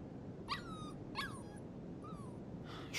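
Puppy Mushroom in Life Is Strange 2 whimpering, four short rising-and-falling whines in quick succession over a soft background hum.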